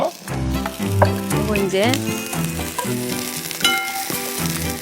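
Thick green onion pieces and garlic chicken sizzle and fry in a hot pan, a continuous loud crackle with occasional stirring, while a person talks over it.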